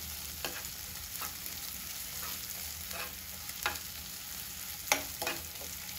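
A raw turmeric pickle mixture roasting in a pan gives a soft, continuous sizzle, with a few short scraping stir strokes scattered through it and one sharper clink near the end. The sound is close but quiet.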